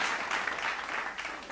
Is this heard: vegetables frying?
no